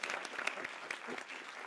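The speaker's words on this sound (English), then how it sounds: "Let's have another round of applause for our debaters and our moderator" A debate audience claps steadily for the debaters and moderator after a capitalism-versus-socialism debate, a soft, even wash of applause heard from some distance that lasts under two seconds.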